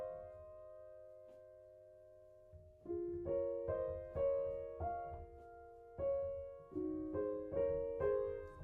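Solo piano plays Clair de Lune without sustain pedal at a moderate, deliberate tempo: one held note fades into near silence, then a clear, close series of gentle chords and melody notes, each dying away quickly.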